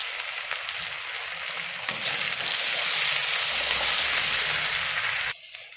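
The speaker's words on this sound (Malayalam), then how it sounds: "ഉള്ളി ഒന്ന് വാടിക്കിട്ടാൻ കുറച്ച് ഉപ്പ് ചേർത്ത് കൊടുക്കാം" Onions frying with salt in a pan for a rabbit roast, a steady loud sizzle that swells slightly partway through and then cuts off abruptly near the end.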